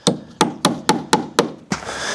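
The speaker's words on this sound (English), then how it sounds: "nail these in" Six evenly spaced hammer blows drive 16 penny nails into wooden wall sheathing during a shop build, each strike sharp and close, followed by a brief scraping rustle at the end.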